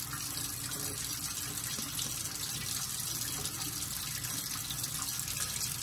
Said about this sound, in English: you wash them really good with soap and water.